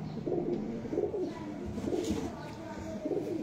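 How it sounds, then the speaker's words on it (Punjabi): An old pigeon of a crossbred line coos in soft, low, rolling phrases that repeat every second or so, close by and fairly quiet. "ਇਹ ਬਜ਼ੁਰਗ ਕਬੂਤਰ, ਉਮਰ ਕਾਫੀ ਇਹਦੀ"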